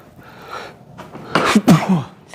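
A man sneezes at Disneyland: a sharp breathy intake builds to one close, abrupt sneeze with a short follow-on snort, audible over faint background chatter.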